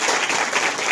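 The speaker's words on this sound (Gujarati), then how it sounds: "તાળી પાડજો જોરદાર" Schoolchildren at a primary school grammar game clap together in a brief, dense burst of applause that fills the room.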